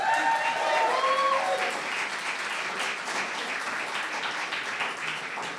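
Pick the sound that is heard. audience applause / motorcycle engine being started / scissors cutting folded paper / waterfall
audience applause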